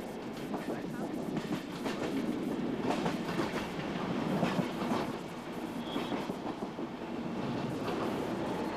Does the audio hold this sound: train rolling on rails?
yes